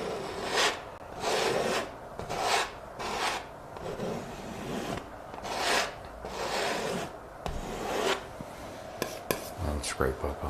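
A palette knife or brush scrapes oil paint across canvas while a river cliff is being painted, in repeated rasping strokes about a second long separated by brief pauses, close and fairly loud, ending with a few lighter taps and scuffs.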